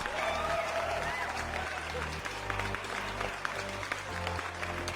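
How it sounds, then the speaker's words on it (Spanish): Applause sound effect with steady dense clapping from a crowd, continuous and moderately loud across the whole stretch, with music sitting underneath. "Si has llegado hasta aquí, mereces un gran aplauso."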